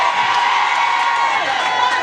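A church congregation cheers and shouts in acclaim of the Lord, a dense, steady roar of voices with whoops and children's shouts carrying throughout.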